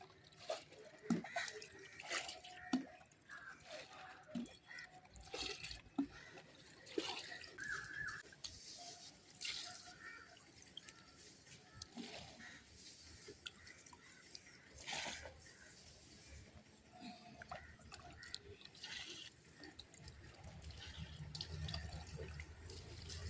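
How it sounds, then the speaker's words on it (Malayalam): Water runs steadily from an open tap on a terrace garden used for watering plants, a continuous splashing flow that stays fairly even throughout, with faint drips and occasional soft voices. "ഞാൻ ടാപ്പ് തുറന്ന് വെച്ചിട്ട് അങ്ങ് പോയി, മറന്നുപോയ കാര്യം. കുറച്ച് വെള്ളം വേസ്റ്റായി."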